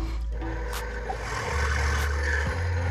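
An 11 mm drill bores 33 mm deep into the body of a double valve regulator, a steady low motor hum with grinding, rasping scrape close to the microphone.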